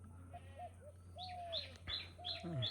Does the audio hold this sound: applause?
no